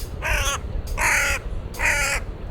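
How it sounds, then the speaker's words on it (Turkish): Crows cawing on a London street, three loud harsh caws in slow succession, close by and alone with a low background rumble. "ülkenin kargaları"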